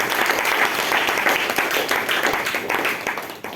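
A church congregation claps loudly and steadily throughout, a dense, continuous applause filling the whole space with no pauses.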